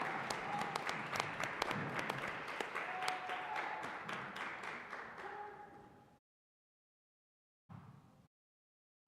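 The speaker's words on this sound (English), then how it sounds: "Round of applause for our Admiral William F. Halsey, Jr., Health and Public Safety Academy" Applause at a school board meeting for a high school JROTC unit, a room of people clapping steadily for about six seconds before stopping, then a short final burst of clapping after a pause.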